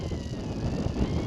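Gusts of around 20 mph buffet the microphone on a hilltop trig point, a steady low rumble of wind noise swelling slightly toward the end, with no voices.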